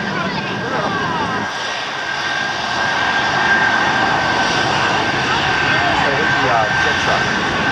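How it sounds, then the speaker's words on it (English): A jet-powered truck roars at a military air show, a loud sustained engine blast with a constant whine over crowd and public-address noise, swelling slightly midway. "Jet truck."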